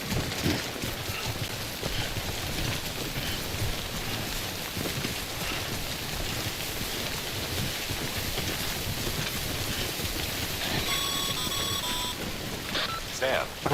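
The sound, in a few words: Timefall rain falling in Death Stranding video game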